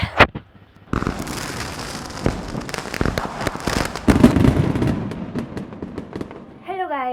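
Diwali fireworks go off in a rapid series of sharp cracks and bangs from a multi-shot cake, loud and close with crackling between bursts, and a voice speaks briefly at the end.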